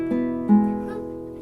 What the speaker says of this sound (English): Here's the nylon ones.